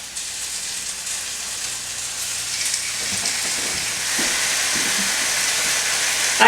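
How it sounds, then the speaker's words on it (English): Chicken pieces fry in hot grease for a chicken and broccoli casserole, giving a steady, close hiss and crackle that builds slightly louder over several seconds, with a few soft pops and no talking. "It's starting to sizzle a little bit."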